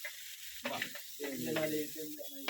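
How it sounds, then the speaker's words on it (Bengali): Potatoes frying at an outdoor cooking setup with stirring scrapes and sizzle, brief clatter of utensils, close and moderately loud, no talk. "এই যে আলু ভাজা হচ্ছে এখন"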